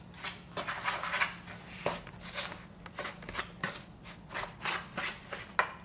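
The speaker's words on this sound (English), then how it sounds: "I'm using my rice scoop and mix this together" A rice scoop stirs rice cake ingredients in a bowl, making repeated scraping, clacking strokes against the bowl in an uneven rhythm, close and fairly quiet with no talking.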